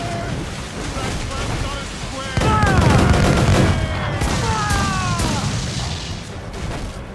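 Cannon fire from an enemy brig at sea in Assassin's Creed 4: Black Flag: sudden heavy booms and whistling shot arrive in a burst over wind and rushing water, with a voice speaking over the battle.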